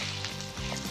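Raw mango pieces dropped into a simple tempering over a low flame, giving a close, steady hiss and crackle of frying oil with no talk.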